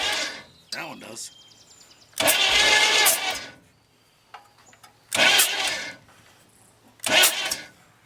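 A 1935 Ford engine, parked for over thirty years, cranks over in three separate bursts of starter churning, each lasting about a second, with quieter clicks and handling noises in the gaps between.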